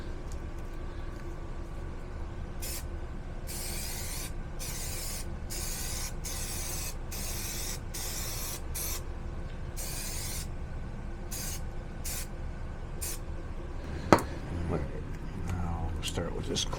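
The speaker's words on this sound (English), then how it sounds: "give it a little spray" A series of short, sharp hissing spray bursts in quick succession, close by, over a constant low hum.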